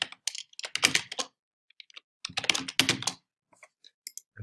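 Typing on a computer keyboard in two close bursts of rapid clicking keystrokes, with a short pause between them and a few isolated taps at the end.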